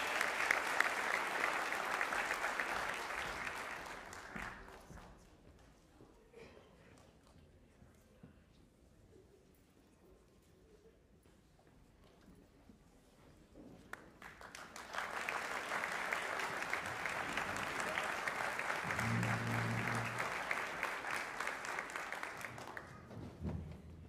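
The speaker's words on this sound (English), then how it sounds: "Let's have another round of applause for these guys before we get started." Audience applause at a school band winter concert, two long bursts of steady clapping separated by a quieter lull, fairly distant in a hall.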